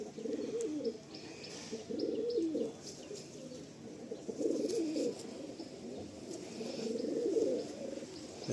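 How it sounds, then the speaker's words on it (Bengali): Malwai pigeons, a matched male and female pair, cooing softly and repeatedly in low throaty bursts close by, with faint chirps and background noise and no talk. "দেখুন এটা মাদা পায়রা"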